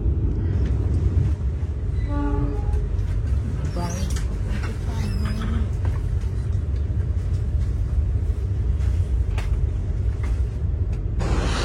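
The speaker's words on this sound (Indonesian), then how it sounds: "kereta api Argo Merbabu masuk di stasiun Jakarta Gambir awal 3 menit teman-teman" The Argo Merbabu passenger train pulls into Jakarta Gambir station with a steady, heavy rumble that fills the whole stretch, and a few brief voices rise over it.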